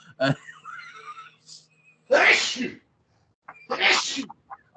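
Two loud sneezes burst out close by, a couple of seconds apart, with brief faint voice sounds in between.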